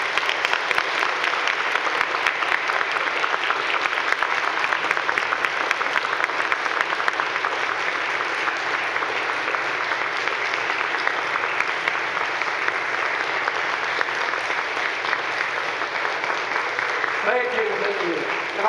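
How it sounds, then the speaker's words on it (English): A convocation audience gives Carrie a long round of applause, with dense, sustained clapping from many hands that keeps an even level and only begins to thin near the end. "I would just like to do a round of applause to Carrie."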